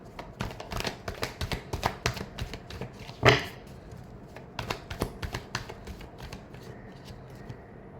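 Tarot cards riffle and shuffle in quick, close bursts of papery flicks and taps, with one louder slap midway and quieter scattered shuffling trailing off.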